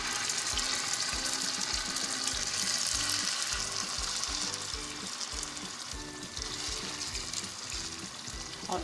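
Fish frying in hot oil in a pan, a loud, steady crackling sizzle that fills the whole stretch with dense spitting bursts and no voices.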